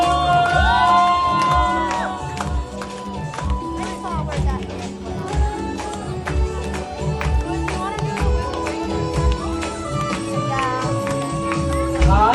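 Wedding guests cheer and shout as a crowd, with music playing throughout and voices carrying over the celebration at a steady, loud level.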